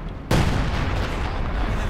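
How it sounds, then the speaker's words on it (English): A small shed blown up in Company of Heroes 2, a sudden loud boom that bursts in abruptly and rolls on as a heavy sustained rumble. "Small shed there blown up."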